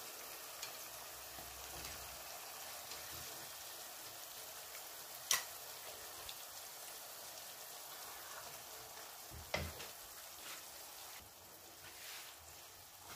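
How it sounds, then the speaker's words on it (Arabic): Meat frying in a pan with onion and oil for a rabbit dish, giving a steady, close sizzle throughout with a couple of sharp pops and crackles partway through. "نحط اللحم هكا يتقلى"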